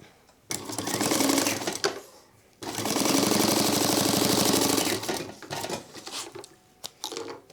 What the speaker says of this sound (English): So we're going to tighten the top tension and run another test stitch.